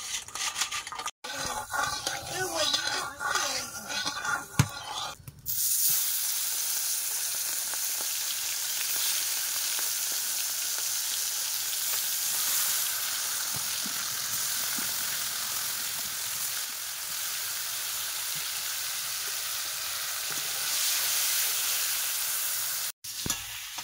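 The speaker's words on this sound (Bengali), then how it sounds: "বেশি একটা ভাজবো না চিংড়ি মাছ, তুলে নেবো" Pond prawns frying in oil, first with a few seconds of clattering and handling, then a steady loud hissing sizzle that runs on unbroken and without voices.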